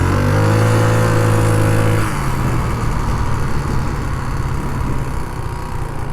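A 2009 Genuine Buddy 125 scooter on a test ride, its engine steady and droning at first, then shifting pitch as it pulls away, close and loud with constant road and wind rumble beneath.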